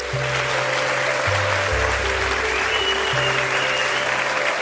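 Steady, dense applause from a crowd, loud and continuous throughout, with no pauses or individual claps standing out.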